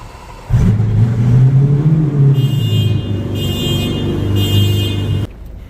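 A Ford Raptor pickup truck engine cranks and catches, then settles into a loud, steady idle for several seconds before shutting off abruptly.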